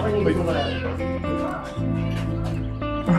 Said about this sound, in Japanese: 猫が魚が食べたいです